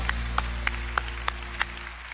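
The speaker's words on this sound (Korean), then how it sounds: "영광의 박수를 올려드립니다." A church congregation at a Sunday worship service claps in a brief, sparse round of applause, with single claps standing out over a steady low hum, moderately distant and fairly quiet.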